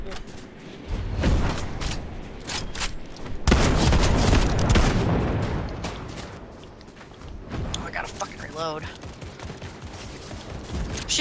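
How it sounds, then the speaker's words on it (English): Gunfire and explosive booms in a Fortnite match on PS5, loud bursts and rapid volleys through most of the clip, mixed with game effects and excited player chatter over the top. "Shooting him out of the sky."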